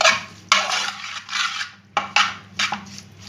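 Chicken being stirred and mixed in a pot while cooking, with repeated scraping and clinking strokes of a utensil against the pot in an uneven rhythm, close and fairly loud, with no talking.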